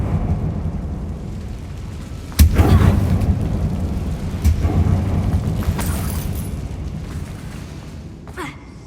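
Confringo blasting spell in Hogwarts Legacy, cast inside a closed mine, bursting as a deep boom with a reverberant rumble, followed by a second softer blast and fading debris, over a low ambient game drone.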